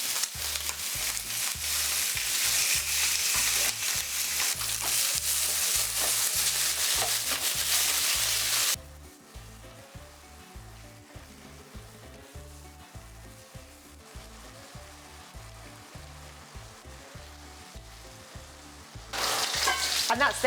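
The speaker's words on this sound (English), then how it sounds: "And that's then seared off, nice and golden brown, into the pan" Meat seared in a hot pan for birria: a loud, steady, close sizzle that drops to a quieter frying hiss partway through and then rises sharply again near the end, with faint scraping underneath.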